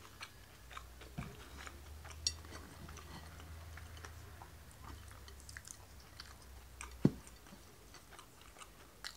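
Close, soft chewing of ramen noodles and oyster gyoza, with irregular bites and faint crunches over a low steady background hum; no talking.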